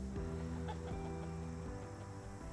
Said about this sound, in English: So what kind of chickens are these?